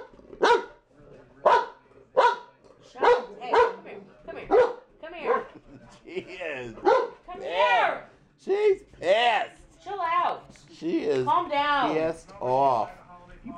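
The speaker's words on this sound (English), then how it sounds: "Barking at the subwoofer." A dog barks at a subwoofer in a snowy setting, giving a rapid series of close, loud barks and yips that continue for about thirteen seconds.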